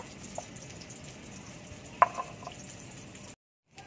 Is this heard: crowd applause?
no